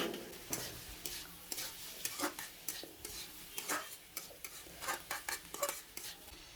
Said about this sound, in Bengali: গাজর দিলাম একটু নেড়ে ছেড়ে নিয়ে